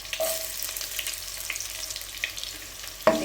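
Sliced big onions frying in hot oil with a few curry leaves for a hotel-style chicken gravy, giving a steady, soft sizzle with faint crackles and a brief stir or clink near the end.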